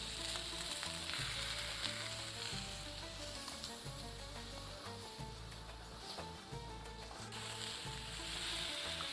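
Chicken kebabs fry in a pan at home, giving a continuous soft hiss and crackle, with occasional light knocks as pieces are turned, steady and close but faint, with no speech.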